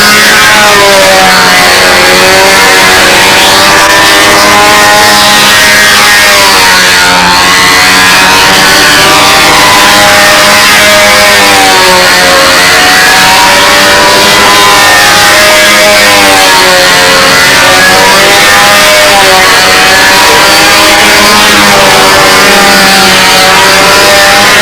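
A model airplane powered by a Merkel engine flies a long competition run in wind, its high, buzzing engine whine loud and continuous, swelling and fading as the plane circles.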